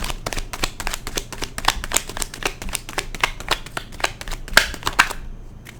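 Tarot cards being shuffled by hand, a rapid run of crisp papery riffles and taps, close and steady for several seconds before stopping.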